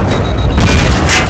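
Tank cannon blasts in a vehicular combat video game, a loud continuous roar of explosions with a sharper burst near the end, heard without talk.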